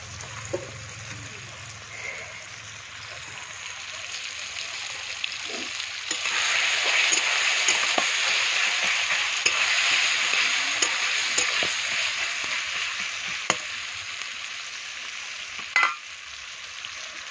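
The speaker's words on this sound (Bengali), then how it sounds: "আমি তেলটা আগেই দিয়ে দিলাম, পেঁয়াজ আর টমেটোটা দিয়ে দিলাম, তাকে একটু কষাবো" Onion and tomato sautéing in oil for a meat curry give a continuous close sizzle that swells louder midway, with occasional scraping knocks of a spoon against the pan and no talking.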